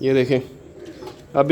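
Domestic high-flying pigeons in a loft give soft, throaty coos in short bursts, close by and mixed with someone talking.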